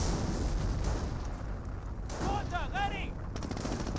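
Dense gunfire and battle noise in Company of Heroes as rounds strike a German Crocodile flamethrower tank, a steady loud wash of shots and impacts with a brief voice-like tone in the middle.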